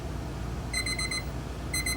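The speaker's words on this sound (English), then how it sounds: "Should hear an alarm go off" An alarm goes off on a GPS-tracking data logger: two short bursts of rapid electronic beeping, about a second apart, over a steady low background hum.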